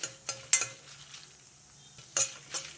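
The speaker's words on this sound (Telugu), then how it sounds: "కొంచెం దగ్గరే ఉండి ఇలా కలుపుకుంటూ వేయించుకోండి" Dried red chillies fry in a pan for gongura chutney while a spoon stirs them, giving a soft steady sizzle with several sharp scraping clinks close by and no talking.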